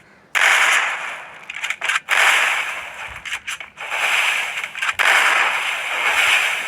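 Gunfire in the mobile battle game Free Fire, with loud sustained bursts of rapid automatic shots broken by short silent gaps and scattered single cracks, and no voices.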